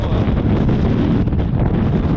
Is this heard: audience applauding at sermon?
no